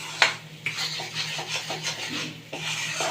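A spoon scrapes and rubs through thick sukhadi sweet mixture as chocolate is stirred in, steady rasping strokes in a pan, close and clear with no talking.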